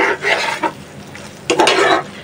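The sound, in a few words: chicken meat frying and being stirred in a pan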